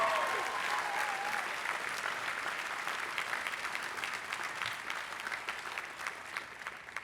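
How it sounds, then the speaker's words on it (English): Large commencement crowd at Emory University's 2010 graduation applauds the graduates' families in a long, dense, even wash of clapping that holds steady throughout. "Let's give them a big round of applause for the great work that they have done."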